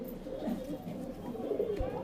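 A single Ablu pigeon in a loft gives low, throaty cooing, steady and close, with faint background noise.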